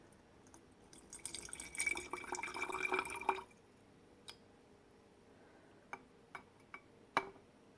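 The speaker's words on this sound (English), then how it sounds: "now we're going to add 50 milliliters of just straight water." Fifty milliliters of plain water is poured into a lab flask, a faint trickling splash lasting a couple of seconds, then several isolated small drips and taps in a quiet room.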